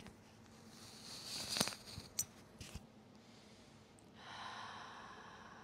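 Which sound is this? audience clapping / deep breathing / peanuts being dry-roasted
deep breathing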